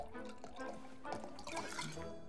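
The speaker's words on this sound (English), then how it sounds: "Then we're going to pour the wine" Wine poured in the video game Card Shark, a soft liquid trickle and dripping that runs steadily for a couple of seconds over a busy, faintly musical background.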